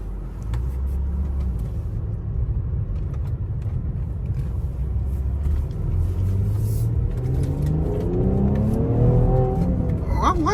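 A new Mercedes AMG GLE with a straight pipe exhaust rumbles low, then accelerates hard near the end, its engine note climbing in a rising roar as it revs up.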